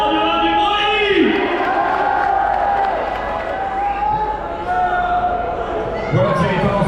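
Loud crowd cheering and shouting at a motocross and freestyle motocross show during a 24-hour race, a sustained roar of voices with whistles and yells, with a voice calling out over it.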